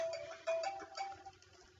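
A phone rings with repeated bright electronic tones in short bursts, fairly close, with no voices.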